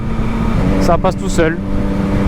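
A 2022 Yamaha MT-09 SP motorcycle accelerates in second gear on a country road, its engine droning loudly under a rider's continuous talk while the quickshifter changes gear.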